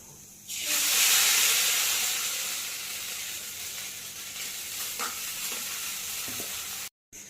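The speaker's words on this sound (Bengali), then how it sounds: "তেলটা গরম হয়ে গেছে এবার আমি চাউমিনটা ফ্রাই করে নিই" Chow mein hits hot oil with a sudden loud hiss that swells and then settles into a steady sizzle, broken by faint scraping, before a brief cut near the end.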